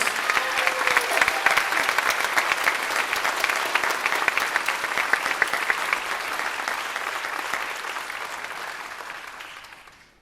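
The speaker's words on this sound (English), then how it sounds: "Let's give a round of applause to this year's Jazz Band seniors." Sustained audience applause at a high school jazz band spring concert honoring the senior players, a dense steady clatter of many hands that holds for about ten seconds before tapering off at the end.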